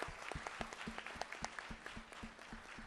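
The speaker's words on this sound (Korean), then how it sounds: "우리 내빈들을 위해서 박수 한번 다시 칩시다." Applause from a book-concert audience greeting the guests, with steady claps from a fairly small crowd at close range, individual hand strikes audible in a loose rhythm throughout.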